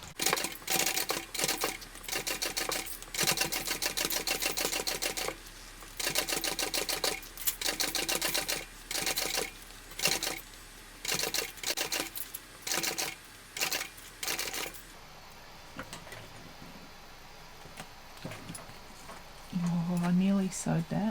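A sewing machine stitches a bucket bag in short bursts of rapid mechanical chatter separated by brief pauses, close and clear, falling quiet near the end.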